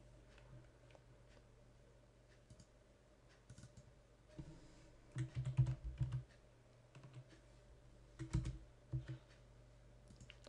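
Keys on a computer keyboard tap quietly up close as a new title name is typed, in short irregular bursts with a soft final keystroke, and no one speaks.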